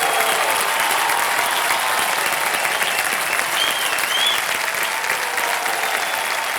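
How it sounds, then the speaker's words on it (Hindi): Dense, steady applause from a large studio audience at a televised quiz show, loud and sustained throughout with a faint crowd murmur and whoops beneath. "तालियां बज जाएं इनके लिए एक बार फिर से।"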